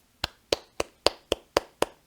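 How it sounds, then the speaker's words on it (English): Eight sharp hand claps in a steady, even rhythm, close and crisp, with short silences between them. "Clapping."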